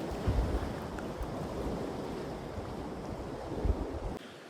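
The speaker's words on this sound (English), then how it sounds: "Can you hear me over the waves?" Loud waves wash steadily against a lake dock, a continuous broad roar with gusty wind buffeting the microphone and a couple of heavier surges, no voices.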